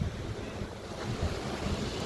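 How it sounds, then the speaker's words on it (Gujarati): Rain pours steadily outdoors where a vehicle has been covered up, making a continuous broadband hiss and patter with gusty rumble underneath and no voices. "આમ જોઈ લો વરસાદ આવ્યો"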